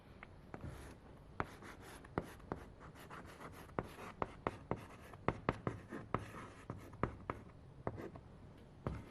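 Minutes for a senior class meeting are handwritten with pen on paper, giving a steady run of small scratchy strokes and sharp taps as letters are formed, close and quiet with no talk.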